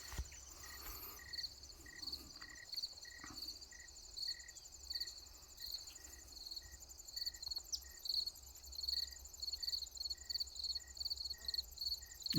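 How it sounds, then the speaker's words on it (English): Crickets chirp in steady, evenly spaced pulses, several overlapping in a continuous outdoor chorus at moderate distance on a farm garden in Rumford, Maine, in September. "There's crickets over here behind me, and, well, crickets all around"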